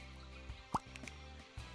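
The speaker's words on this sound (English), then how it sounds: "I stepped in the water." A single soft splashing footstep into water in the video game Scribblenauts Unlimited, a quick drip-like plop over quiet background music.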